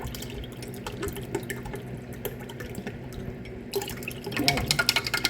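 Water is poured into a breakfast drink while cooking, a light splashing and trickling that swells louder toward the end, with small clinks over a quiet kitchen background.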